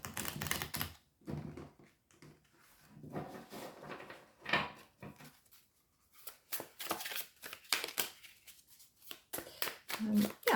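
An Egyptian tarot card deck is shuffled in bursts, with crisp riffling and sliding card sounds coming in uneven clusters, separated by quiet gaps and soft handling noises, close and fairly faint.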